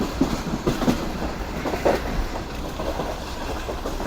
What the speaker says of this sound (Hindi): ट्रेन इस वक्त शिफ्ट कर रही है डिग रोड जंक्शन रेलवे स्टेशन को